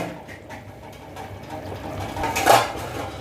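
A metal lid lifted off a pot of aloo sabji simmering on the stove, giving a single clanking scrape near the end over a low, steady kitchen background.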